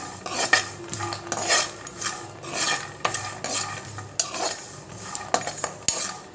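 Dry-roasting with only salt in a pan, no oil, for a dish made with chapati dough: repeated metal scrapes and clinks of a utensil against the pan, rhythmic and close, with little sizzle.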